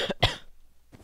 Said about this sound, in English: I need to learn how to turn my mic off before I cough.